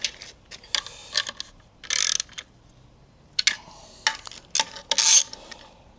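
A ratchet wrench snugs up transmission bolts on an abandoned race car being rebuilt. Bursts of quick clicking ratchet strokes come close and loud, separated by short pauses and metallic clinks as the tool moves from bolt to bolt.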